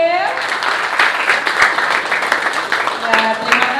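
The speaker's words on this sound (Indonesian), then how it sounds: "Beri tepuk tangan untuk Fidel." Applause for a student named Fidel in an Indonesian classroom, a dense steady patter of many hands lasting several seconds, loud and close, with a brief voice near the end.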